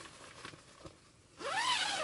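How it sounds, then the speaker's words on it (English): A zipper slider is run along the single zip of a tent's D-shaped door, giving a short rasp that starts quietly and then swells into a loud, bright zip near its end. "it just has two sliders, but a single zip going all the way around."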